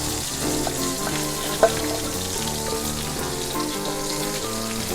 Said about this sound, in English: now I dump in my corn